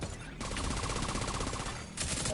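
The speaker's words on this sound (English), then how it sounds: "Hostile radio intercepted. I hear gunfire." Rapid bursts of automatic gunfire in the video game The Division 2 crackle in a sustained, dense volley, loud and close, with brief pauses at the start and end.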